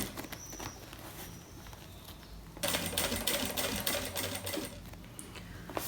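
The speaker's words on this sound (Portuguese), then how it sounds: "É só vir rebatendo essa costura na volta todinha da nossa bolsa." A sewing machine topstitches the seam around a handbag with a steady rapid patter of stitching, quieter at first, then louder and closer midway, with no talking.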